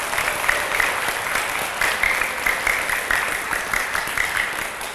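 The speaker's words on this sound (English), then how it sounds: "So let's give Zach another round of applause." Another round of applause for Zach Adamson at an Indianapolis bee-friendly city gathering, a loud, sustained crowd clapping with slight swells, occasional cheers or voices poking through.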